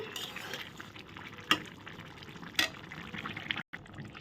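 Soybean and Gobindobhog rice dish with garam masala stirred in a pan: a steady soft sizzle with a few sharp spoon scrapes against the pan, close by, ending in a brief cutoff.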